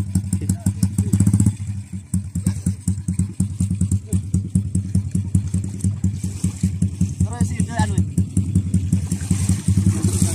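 A motorcycle engine runs steadily at a rough idle close by on a fishing jetty in Lasolo, North Konawe, Sulawesi, its putter continuous, with a brief louder rev at the start.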